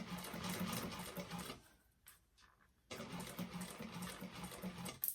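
Sewing machine stitching over piping on a fabric bag, a quiet whirring run that pauses briefly near the middle and then resumes steadily.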